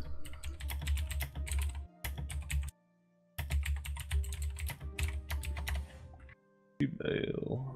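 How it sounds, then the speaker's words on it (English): Rapid clicking of a computer keyboard during play of the strategy game Europa Universalis IV, steady bursts of keystrokes with brief pauses, close to the microphone, while people talk over it. "Sorry for the clicking."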